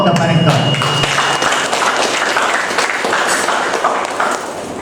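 Students at a new-student campus orientation at Universitas Karimun clap for the university rector, a dense, steady burst of crowd applause lasting several seconds with voices murmuring underneath.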